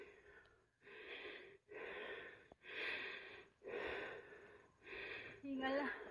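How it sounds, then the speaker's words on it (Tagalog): Heavy rhythmic panting from a hiker climbing Mt. Tanawan in Bulacan, six or so loud rasping breaths in steady succession, close to the mic, with a voice cutting in at the end. "Hingal."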